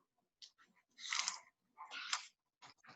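Chewing and slurping at a dining room table, a few close, crisp bursts of munching and wet mouth sounds separated by short quiet gaps.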